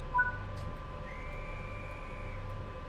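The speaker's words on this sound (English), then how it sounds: "Can you hear the guard's whistle?" A guard's distant whistle in the Train Sim World 5 railway simulator, a faint thin sustained tone heard far off over a low steady locomotive hum, with a brief sharper blip at the start.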